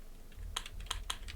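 A password is typed on a computer keyboard in a short, quiet burst of a few crisp key clicks with uneven spacing, heard on its own.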